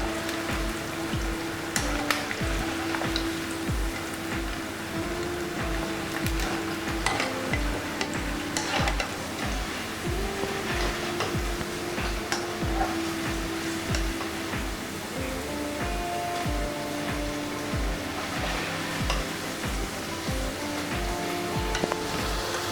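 Onion and sweet corn pakoda batter frying in hot oil while being stirred, a dense crackling sizzle running the whole time with repeated scraping strokes of a utensil.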